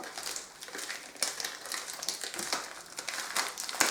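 Hands wrestle with plastic packaging from an online order, giving repeated close crinkles and crackles with no speech.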